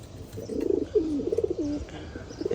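Pigeons coo in a pigeon loft, several close, throaty rolling calls repeating in bursts, clear and moderately loud against a quiet background.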